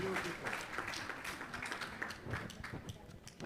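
Audience at a teachers' association conference awards ceremony in Jamaica gives fairly faint, scattered applause with irregular claps, heard under ongoing talk.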